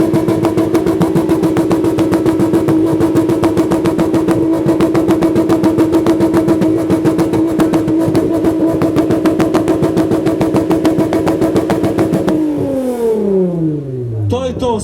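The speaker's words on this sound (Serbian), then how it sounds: "stisni Nenade gas da čujemo tu tvoju mašinu" A tuned car engine revs hard and steadily for about twelve seconds at an exhaust decibel contest, very loud and close, then drops away fast as the throttle is released. A crowd murmurs underneath.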